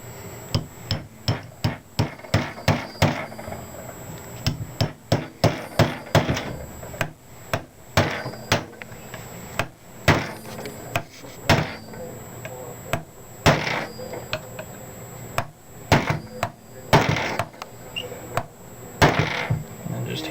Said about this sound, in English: Just hammer them in so they're nice and snug.